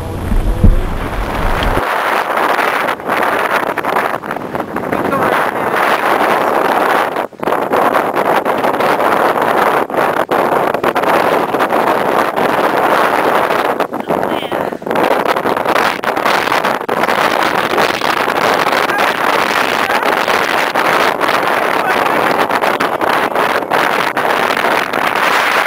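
Strong wind roars steadily and close across an Antarctic expedition camp, with gusts buffeting the microphone from start to finish and no voices.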